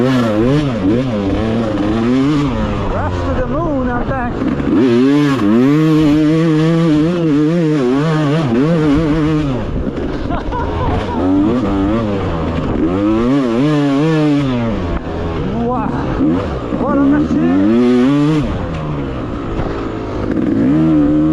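A Yamaha YZ250X two-stroke dirt bike engine revs hard through second gear, pitch climbing and falling in repeated loud surges that run continuously up close.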